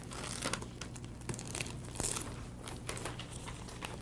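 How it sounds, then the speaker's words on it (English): Wrapping paper crinkling as it is folded and taped down on a gift box, steady close crackling and rustling with a few sharper crinkles, alone without talk. "So now you take that and then just tape it down."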